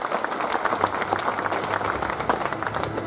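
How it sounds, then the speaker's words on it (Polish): An audience at a sports awards gala in Lubawa claps in a steady, full round of applause, dense and even at moderate loudness throughout. "Brawa"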